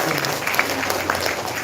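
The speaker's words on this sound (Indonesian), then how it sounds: "Tepuk tangan dulu buat kita semua." A crowd at a communal Ramadan fast-breaking gathering applauds briefly, a short, dense burst of clapping at moderate volume with a faint murmur of voices beneath it.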